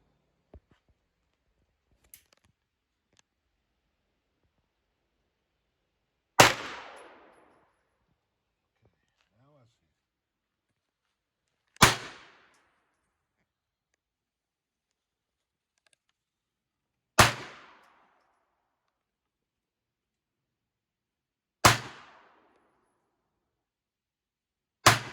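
Hi Point 9mm pistol fired at targets on an outdoor range: five sharp, loud shots spaced several seconds apart, each with a short echoing tail, and a few faint clicks beforehand.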